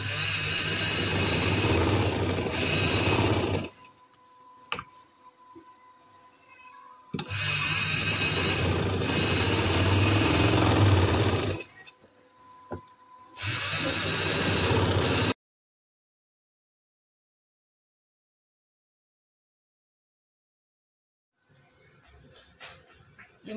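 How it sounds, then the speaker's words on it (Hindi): A sewing machine runs in three long bursts, stitching a double seam on a kameez, each run buzzing steadily for a few seconds between short quiet pauses, then stopping into silence before a faint shuffle at the end. "ये हम सिलाई लगाएंगे इस तरह से, ये डबल सिलाई लगा लेंगे।"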